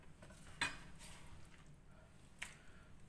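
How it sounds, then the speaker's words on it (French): Cut potatoes and carrots tipped into a frying pan of sauce make soft clatters and wet shuffling, with two small clinks of utensil on pan, quiet and close. "Je m'apprête à mettre ça dans ma poêle."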